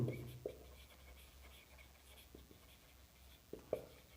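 Pen writing out an integration step in a maths lesson: quiet scratchy strokes on paper with a few soft taps and knocks, faint and close, with no clear talk.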